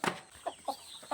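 Chickens being fed grain, giving several short, soft clucks spaced about a quarter second apart, quiet and close with no talking.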